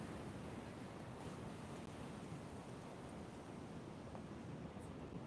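Atlantic ocean surf at the beach makes a faint, constant wash of broadband noise. No distinct wave crashes stand out, and a little wind mixes in.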